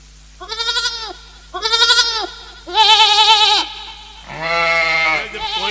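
Goats bleat loudly and close by in five separate quavering calls, each about a second long with short pauses between, over a low steady hum and no talk.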